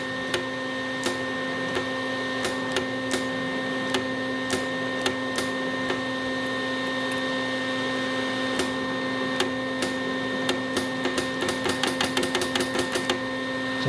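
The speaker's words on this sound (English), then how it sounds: "let's test the solenoid just to make sure it will work" Gas solenoid on a Lincoln Electric Weld-Pak 125 HD flux core welder converted to MIG, repeated sharp clicks spaced irregularly over a steady hum, speeding into a rapid burst of clicks near the end.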